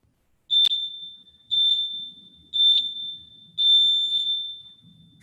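A workout timer alarm goes off in four loud, high electronic beeping bursts, evenly spaced about a second apart, the last one held a little longer, with no talking.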